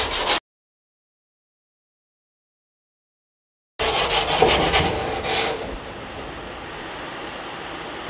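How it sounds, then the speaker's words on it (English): Close, harsh scraping and rubbing as dirt and old coating are scrubbed off a Mustang body, heard in a short burst, then a gap of silence, then more rough scratching that eases to a low steady rasp. "Let's get this side over here scratched off as well."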